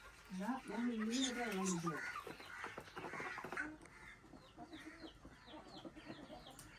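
Backyard hens clucking while being fed their midday ration on a small home farm, with soft, scattered clucks and a few higher peeps. A voice speaks over the first couple of seconds before the birds carry on alone.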